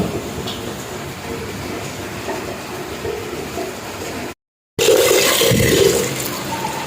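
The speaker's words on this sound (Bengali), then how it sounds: "চাল ডিম ভালো করে ধুয়ে নিচ্ছি" Rice and eggs are washed in water, a steady rushing, sloshing wash that cuts out briefly and then returns louder and splashier.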